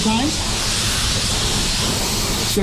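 A loud, continuous aerosol hiss sprays for nearly three seconds, steady and close, with brief faint sounds at the start and end.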